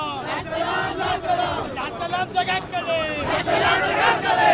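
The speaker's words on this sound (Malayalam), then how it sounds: "വലിയ ആൾക്കൂട്ടം റോഡിന് ഇരുവശവുമായി കാണുക കൂടിയാണ്" A large crowd lines both sides of the road as a funeral procession passes, many voices raised together in chanted slogans, loud and close, with people shouting across the whole stretch.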